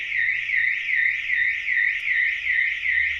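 A loud Autowatch 695 car alarm siren, triggered by intrusion, wails in a steady rising-and-falling cycle, repeating about every half second without pause.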